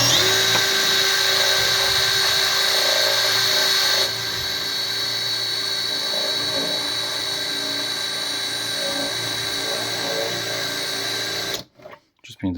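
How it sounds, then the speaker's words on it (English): A drill boring a row of holes in a scooter panel during a rebuild, a continuous high whine that shifts down and keeps running before stopping abruptly near the end, with speech over it. "I've just slanted the drill over and just so I've drilled all the holes just to connect them all up"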